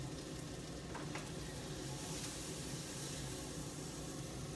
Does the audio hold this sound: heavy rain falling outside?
no